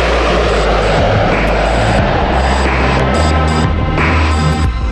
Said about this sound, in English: When the B-2 makes its maiden flight on July 17, 1989, it flies every bit as good as it looks.